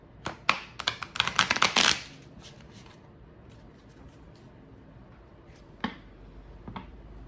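Oracle cards are shuffled up close in a quick, crisp burst of riffling and flicking that lasts about two seconds. Near-silence follows, broken only by a couple of isolated soft taps.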